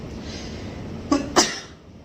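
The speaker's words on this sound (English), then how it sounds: "I feel like I'm gonna sneeze." A quick double sneeze, two sharp bursts in a row, close by against a quiet room.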